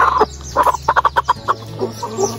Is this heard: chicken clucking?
yes